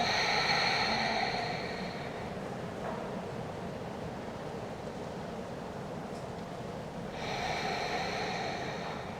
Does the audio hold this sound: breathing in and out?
yes